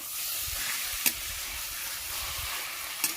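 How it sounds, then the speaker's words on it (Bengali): Taro leaf curry sizzling steadily in a pan with the lid just opened, a spatula stirring through it with soft scrapes and two sharper clinks against the metal, close by. "কচুর শাকটা যখন নাড়বে, খুন্তিটা এইভাবেই চালাতে হবে"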